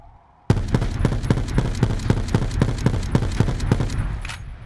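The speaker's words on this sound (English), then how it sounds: "So I'll show you what the S6 Stingray's normal fire rate is, and this is what it was with the operator mod pre-patch." Rapid automatic fire from the S6 Stingray in Black Ops 4, fitted with the operator mod before the patch; a loud, steady stream of evenly spaced shots bursts in after a quiet moment and runs unbroken to the end, with no talking.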